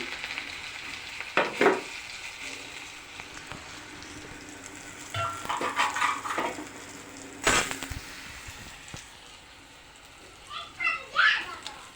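Semolina frying in a pan with mustard seeds and green chillies: a low sizzle under bursts of scraping and clattering from stirring, with people speaking intermittently.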